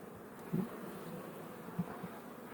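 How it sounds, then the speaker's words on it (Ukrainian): A faint, steady hum of grey honey bees from a renewed colony at an apiary hive, low and even with a few slightly louder swells, no voices. "П'ятак бджіл, бджоли сірі, оновлені."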